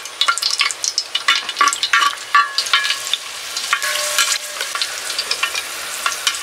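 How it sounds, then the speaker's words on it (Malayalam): Cashew nuts fry in hot oil in a pot for Kerala chicken biryani, giving a lively crackling sizzle with irregular bursts of popping throughout and no voices. "എണ്ണ ചൂടായതിന് ശേഷം നമുക്ക് ഇതിനകത്ത് കുറച്ച് അണ്ടിപ്പരിപ്പ് ഇട്ട് കൊടുക്കാം"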